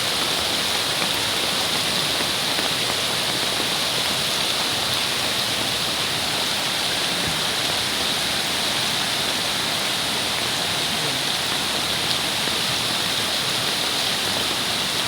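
Strong, high floodwater rushes after heavy rain in a flooding neighbourhood, a loud, steady broadband roar like a waterfall that runs unbroken throughout with no voices over it.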